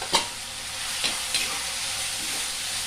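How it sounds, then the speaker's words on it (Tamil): Prawns for a prawn curry hit a hot frying pan, giving a steady close sizzle with a few sharp clinks as they are stirred in. "இறா வந்து இது வதங்கினோன்னா இறா போடுங்க இறா போட்டுறேன்"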